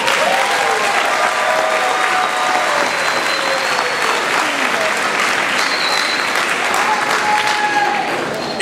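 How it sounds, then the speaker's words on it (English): A graduation crowd breaks into loud, sustained applause, thick clapping with cheers and whistles threaded through, steady to the end. "a great round of applause."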